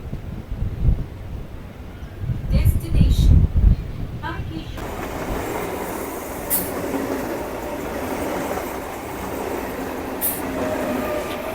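A Howrah–Tarakeswar local train leaves Loknath station, rumbling and clattering steadily along the rails, with a few bumps and brief talking early on, the rolling noise building and holding.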